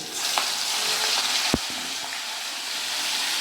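Garlic sizzles in hot oil in a pan for a Kolkata-style pabda fish curry, a steady bright frying hiss broken by one sharp utensil knock partway through.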